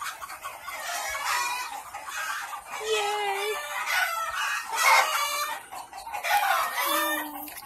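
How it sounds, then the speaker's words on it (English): Chickens clucking on a farm, including buff Orpingtons and a big rooster, with a rooster crowing twice amid continuous clucking and people talking nearby. "See that big rooster?"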